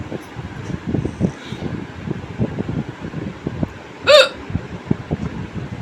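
A single sharp hiccup rises out of a steady whirring fan hum, close and brief, with the room otherwise quiet.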